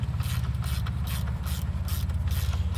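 A ratchet tightening a nut on a Mercury outboard during a water pump impeller job gives rapid, close, rhythmic clicking in repeated bursts, with no talking.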